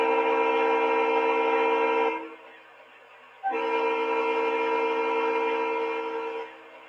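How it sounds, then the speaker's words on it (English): A model train locomotive horn sounds two long, loud blasts, a rich steady chord separated by a brief pause, close and clear. "the horn on this engine is just amazing"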